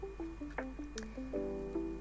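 Wet watercolour paint being dabbed to dry it gives soft, close squishy dabs with small drip-like blips, a few separate touches and then a longer wet smear near the end.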